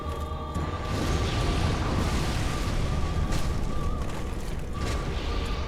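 Explosion attack in Dark Souls amid fire and lava, a heavy, continuous rumbling blast that swells in after a brief quieter start and holds loud and thick throughout.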